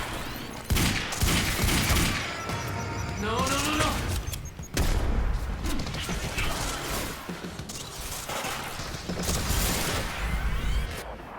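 Gunfire in the video game Quantum Break rattles in rapid bursts and volleys with mechanical clicks and impacts, loud and dense throughout, while someone talks over the action.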